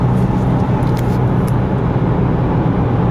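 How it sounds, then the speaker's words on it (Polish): Cabin noise inside a 2022 Isuzu D-Max pickup cruising at about 100 km/h, a steady broadband road and wind roar with low rumble, constant and unbroken. "słychać w kabinie, że jest rzeczywiście ciszej przy prędkości w okolicach 100 na godzinę"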